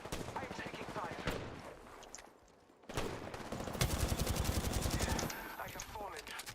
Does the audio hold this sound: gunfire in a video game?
yes